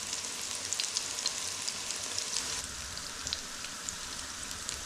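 Battered fish pakoras frying in hot oil make a steady, dense sizzle with fine crackling throughout, close and continuous, with no voices.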